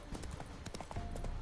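Horse hooves clip-clopping at a quick gallop in The Witcher 3: Wild Hunt on PS5, a steady rapid run of close, loud hoofbeats with game ambience behind.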